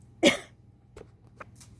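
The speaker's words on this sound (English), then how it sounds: "I had a dry cough" A single sharp, dry cough up close, followed by a couple of softer throat sounds and faint breaths in a quiet room.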